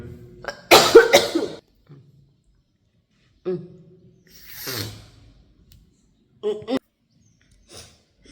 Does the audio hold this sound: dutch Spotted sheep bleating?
no